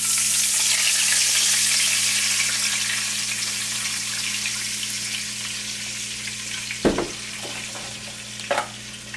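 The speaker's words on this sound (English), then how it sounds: "We'll start off with a cup of water." Water poured into a hot frying pan after browning garlic, for braised oxtails, with a steady loud sizzle and frying hiss throughout, a few sharper bursts and clatters near the end.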